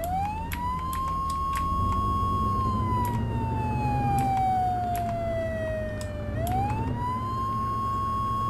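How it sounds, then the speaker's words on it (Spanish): A police car siren wails loud and steady in the Flashing Lights driving game, its tone sliding slowly downward and then sweeping back up, over constant engine and traffic rumble. "Vamos a encender la sirena"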